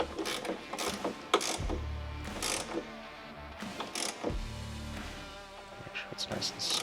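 Ratchet tightening a turn signal bolt on a motorcycle fairing, relocated for a HOGWORKZ Ruckus ST fairing kit, gives close mechanical clicking in short bursts with brief pauses and some handling noise.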